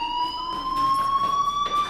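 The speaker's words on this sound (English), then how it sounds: "do you hear that fire alarm?" A fire alarm in the video game Life is Strange rings steadily as a sustained electronic tone with bright harmonics, continuous and fairly loud for the whole moment, with no talking over it.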